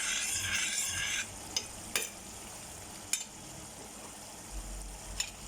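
Fish stirred into a simmering dry fish chutney in a frying pan, a low steady sizzle with a few distinct scraping and clinking strokes of the spoon against the pan, faint and close, no talking.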